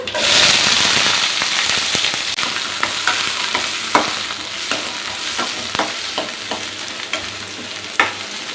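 Twenty to twenty-five chopped small shallots frying in hot oil, a loud burst of sizzling at the start settling into steady hiss with repeated crackling pops and stirring knocks.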